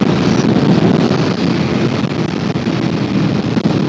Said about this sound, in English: Acceleration and top speed again. Suzuki SV650s 1999.